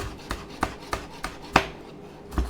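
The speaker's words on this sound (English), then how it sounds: "So I'm going to just chop up the green onion." Green onion is chopped with a knife on a board in about eight regular, crisp thuds a little under half a second apart, close and clear with no talk.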